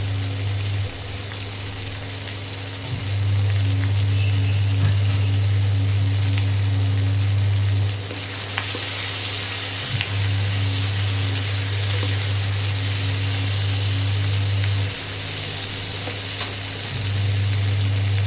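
Chopped green chillies frying in a pan: steady close sizzling and crackling throughout, with a low electric hum beneath that drops out and returns several times, no talking.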